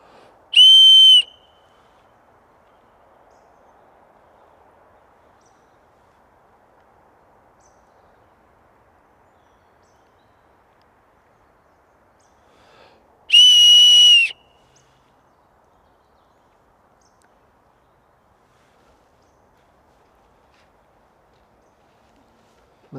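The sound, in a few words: whistle blown at night in the woods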